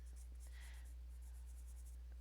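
A Derwent blender pencil rubs over wax-based colored pencil on paper in soft, rapid scratchy strokes, faint and very close, coming in short bursts over a low steady background hum.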